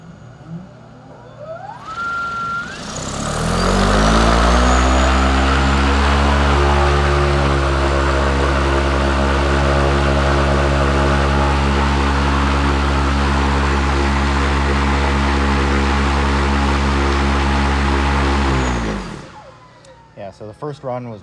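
An Alta X drone's ActiveBlade rotors spool up to a loud, steady, close-up drone with a rising whine. They hold an even pitch for about fifteen seconds, then wind down.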